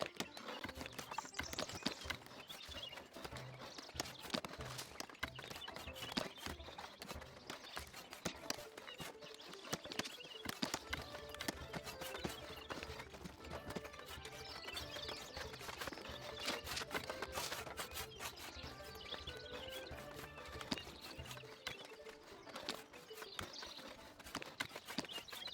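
Horses walking in the medieval city-building video game Foundation, a steady clip-clop of hooves layered over continuous game music and ambient bird and village sounds, moderately loud throughout.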